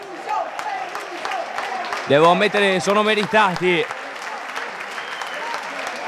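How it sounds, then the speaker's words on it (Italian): Football stadium crowd at a Pistoiese match applauding a departing player after his two goals, steady broad clapping throughout with a loud surge of cheering and chanting from the stands midway, while a commentator speaks over it. "La doppietta di Peluso, che adesso abbandona il campo, si prende gli applausi"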